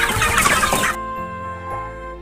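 Sentul chickens cluck in a coop in a short burst of close, busy clucking that stops abruptly, leaving a quiet tonal hum.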